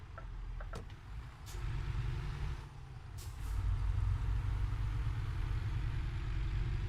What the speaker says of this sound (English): truck sounds so nice now. This is a cruising machine.